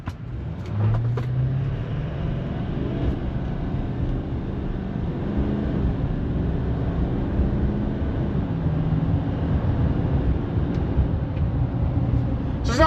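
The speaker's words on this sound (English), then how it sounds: "we're just gonna do one pull with wide open throttle and see what it does" LML Duramax diesel pickup truck with a delete kit accelerating at wide open throttle, a deep steady engine roar building low and sustained, heard from inside without talk.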